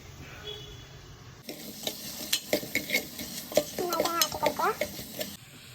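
Chicken curry ingredients are flipped and stirred in a pan, giving a run of sharp scrapes and metallic clinks over a soft sizzle. The sound is close, with no talk.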